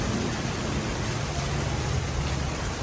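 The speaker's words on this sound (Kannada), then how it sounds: "ಚೆನ್ನಾಗಿ ಮಳೆ ಸುರಿತಾ ಇದೆ ಗುಡುಗು ಮಿಂಚಿನ ಜೊತೆಗೆ ಮಳೆ" Heavy night rain pours down in a dense, loud, unbroken roar, close and steady throughout, with no distinct thunderclap standing out and no voices.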